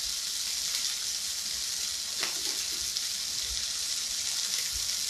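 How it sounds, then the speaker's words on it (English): Shrimp fried rice sizzling hard in a pan, a steady loud hiss of frying throughout with a few faint scrapes and clicks partway through. "The sizzle is real."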